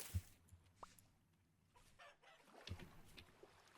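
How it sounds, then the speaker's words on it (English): Chickens cluck in the survival game Vintage Story, faint scattered clucks and short calls at a distance over a quiet, low ambient background. "Chickens."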